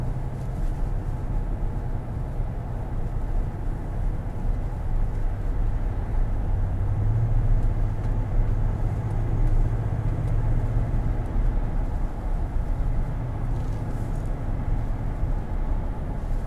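Steady low road and engine hum inside the cabin of a 2019 Ram 1500 pickup truck on the move, quiet and even throughout with no talk.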